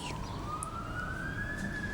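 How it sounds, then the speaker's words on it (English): An ambulance siren wails in a television police drama, a single steady rising tone heard at moderate distance over a noisy background. "That'll be the ambulance."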